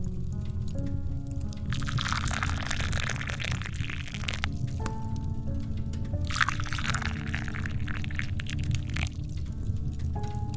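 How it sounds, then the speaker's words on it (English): Tea pours steadily into cups for several seconds, with small clinks and ceramic taps breaking through the continuous trickle. "And now, the moment of truth. I always pour counterclockwise."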